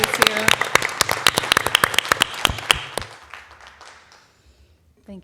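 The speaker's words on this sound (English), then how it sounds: "can we give him a big round of applause and a thank you" A board of education meeting audience applauds in a dense burst of clapping for about three seconds, then it tapers off and fades out.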